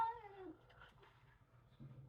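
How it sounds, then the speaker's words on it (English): A cat gives one drawn-out, wavering meow indoors, fairly faint, followed by quieter murmuring sounds in a hushed room. "My cats are going wild."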